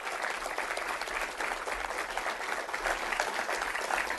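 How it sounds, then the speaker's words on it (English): Steady applause from a crowd at a commemoration event honoring city staff, dense clapping held at an even level throughout, moderately distant. "a big round of applause for the city staff"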